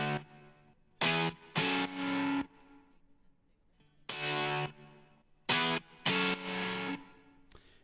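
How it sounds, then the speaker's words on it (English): Distorted electric rhythm guitars playing together in a music mix, chugging sustained chords that start and stop in blocks, fairly loud and close, with no voices. "I really like these rhythm guitars. I'll play them together."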